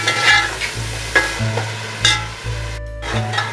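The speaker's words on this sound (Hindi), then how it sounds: "थोड़ा सा भूनेंगे इसे।" Ginger paste fries in oil with cumin and cardamom while a spoon stirs it around the pan, loud close sizzling with repeated scraping knocks over a low steady hum, no voices.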